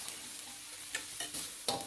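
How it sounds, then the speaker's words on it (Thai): Roasted dried chilies stir-fried in a little oil in a pan, with quiet sizzling and a few brief scraping stirs of a utensil against the pan, faint and close, with no voices. "ใส่น้ำมันลงไปเล็กน้อย แล้วก็ พริกที่เราคั่วเมื่อกี้ลงไปเลยครับ คั่วให้หอมเลยนะฮะ"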